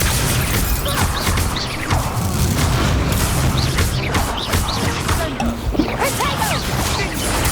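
Combat spells in Hogwarts Legacy go off in a loud, dense barrage of booms, crashes, whooshes and sharp impacts, continuous and close, with faint shouted voices mixed in.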